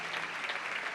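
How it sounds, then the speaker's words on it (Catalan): Dense, steady applause from an audience for a music school choir at a Patum celebration, filling the whole short moment with continuous clapping. "Un fort aplaudiment, si us plau, per la coral de l'Escola de Música"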